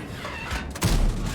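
Tank cannon fire in World of Tanks, a deep booming blast with a heavy low thud that swells partway through the clip, loud and close.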